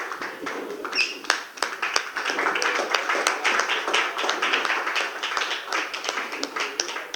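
An audience at a poetry reading claps for a poet, a dense spread of sharp, close hand claps that builds quickly and keeps going steadily for several seconds.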